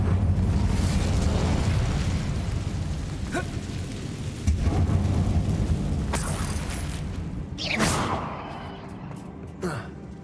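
Incendio fire spell cast in Hogwarts Legacy, a crackling, rushing burst of flame with several sharp bright bursts over a steady low rumble, loud and close, with no voices.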